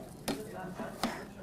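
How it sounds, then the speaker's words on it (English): Chef knife chopping bananas on a board: two sharp, distinct knife strikes about three-quarters of a second apart with a softer tap between, close and fairly loud, no talking. "You'll see I have a chef knife here, and I'm just kind of chopping up some of these bananas"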